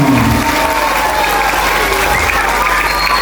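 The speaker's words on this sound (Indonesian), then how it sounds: "Tepuk tangan buat SD Negeri Paripurno" Schoolchildren at an elementary school gathering applaud together in a loud, continuous wash of clapping with crowd murmur and a few cheers, heard close.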